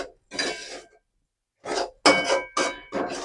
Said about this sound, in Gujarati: આપણે સતત આને આવી રીતના હલાવતા જવાનું છે।